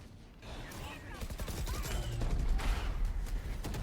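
Gunfire in a competitive shooter game match comes in rapid bursts that grow louder over a few seconds, with a voice talking over it.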